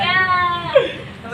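A cat meows once, a short rising-falling cry up close, heard under a voice speaking nearby.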